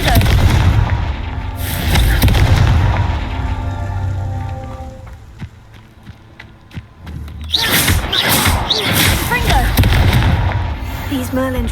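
Confringo blasting spells from Hogwarts Legacy go off in a volley of loud, rapid booms and crackling bursts, fading to a quieter lull before another dense round of blasts resumes.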